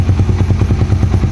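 A carbureted Suzuki Raider 150 motorcycle engine idles nearby with a steady, rapid low putter and even pulsing firing beats, loud and unbroken with no talk.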